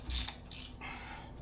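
A wrench tightens a bolt on a Honda strut assembly, giving two short ratcheting bursts followed by a softer metallic creak, close by and alone.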